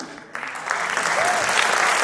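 Applause breaks out after a stand-up comedy set, jumping in suddenly and swelling into a full, loud ovation. A voice is faintly heard under the clapping.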